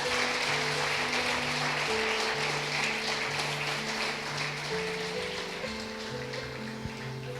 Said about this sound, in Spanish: Dale un aplauso bien fuerte a Cristo Jesús